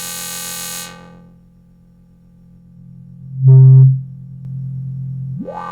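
A synthesizer patch in Arturia Pigments 4 plays through its Korg MS-20 filter mode, giving a bright tone that drops to a low, round hum, then a loud swelling buzz and a rising sweep at the end.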